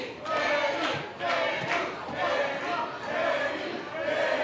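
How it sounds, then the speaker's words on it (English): A pro wrestling crowd roars and cheers continuously in a large venue, a dense, loud wall of voices that swells and dips in waves over several seconds. "Listen to this crowd."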